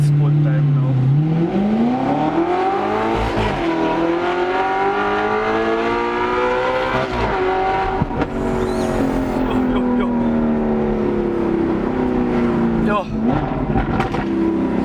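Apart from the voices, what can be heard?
car accelerating in sport mode with Power Pipes exhaust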